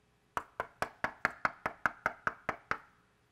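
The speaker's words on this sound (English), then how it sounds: "That's Philemon's door" About eleven sharp knocks strike a wooden door in a steady, even rhythm, each one crisp and close, with no voices.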